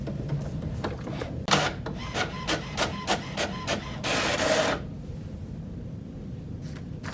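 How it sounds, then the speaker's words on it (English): An HP inkjet printer runs its realignment routine after new HP 902 ink cartridges are installed. Close and fairly quiet, it makes a rapid series of short mechanical whirs and clicks, then a longer sliding carriage sweep, then a softer hum. "After a few minutes, your printer will realign and you're back in business."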